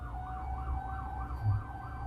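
A wailing emergency siren rises and falls repeatedly in the distance over low traffic rumble, faint but clearly audible.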